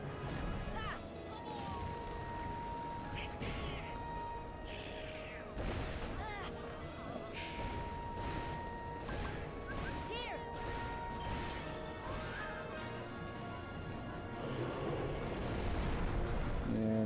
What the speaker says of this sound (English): she's doing the fireball attack again